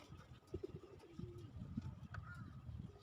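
Pigeons coo softly at a pigeon farm, low throaty calls repeating over a faint background hum, with a brief higher chirp and no talking.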